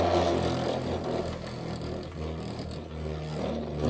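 A green defense-type spinning top in the Shelter Drake line, launched for a test spin after a countdown, whirs and scrapes steadily in a stadium, a dense, continuous, fairly loud rasp with a rumbling low hum that barely varies for several seconds.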